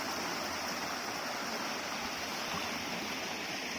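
Water flowing in a continuous, even rush, like a stream or small fall close by, holding a steady hiss at constant loudness with no talk.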